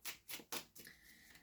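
Tarot cards are shuffled by hand, giving three or four quick crisp riffling bursts followed by a softer settling rustle, close and quiet with no talk.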